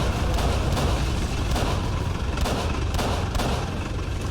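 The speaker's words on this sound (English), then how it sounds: "I'm getting shot at a lot though, which is somewhat stressful." Gunfire in a Call of Cthulhu rail shooter sequence: rapid, repeated shots crack steadily throughout, loud and dense like sustained automatic fire over a constant rumbling background.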